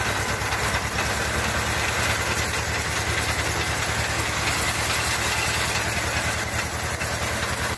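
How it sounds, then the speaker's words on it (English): A homemade round hay baler built in Ukraine runs steadily, its engine and mechanism giving a loud, even, rapid rhythmic knocking hum that holds constant throughout with no voices. "This is a homemade round hay baler,"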